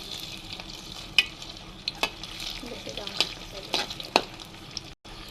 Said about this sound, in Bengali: এবার আমি এখানে ডিমটা ভেজে নিব।